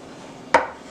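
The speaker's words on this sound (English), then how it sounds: "Just rough chopping it." A single sharp knife strike on a cutting board while rough-chopping ingredients for American-style beef goulash, heard up close as one crisp knock against quiet.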